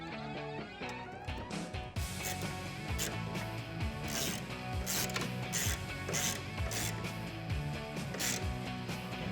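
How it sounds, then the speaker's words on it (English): Ratchet or wrench tightening bracket hardware for a locking roll-up tonneau cover on a 2016-2021 Toyota Tacoma truck bed, heard as steady, dense mechanical clicking and grinding that runs continuously throughout without speech. "Go ahead and install the hardware and tighten these down."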